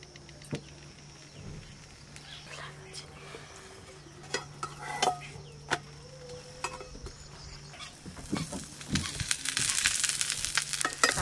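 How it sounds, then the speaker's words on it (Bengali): Paratha frying on a tawa, a faint, steady sizzle with scattered clicks and scrapes of turning that grows slightly louder toward the end. "আবার একটা পরোটা একই রকম ভাবে ভেজে নেব।"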